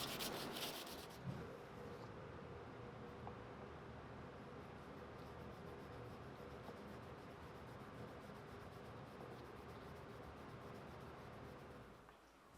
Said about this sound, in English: Once that's drilled, I'll sand and apply some finish.